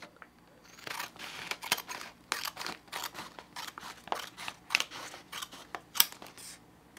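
Blades snip and crinkle through the packaging of a Glycine Combat Sub 42 Bronze watch, Ref. GL0187, in a quick run of close, crisp cuts and rustles.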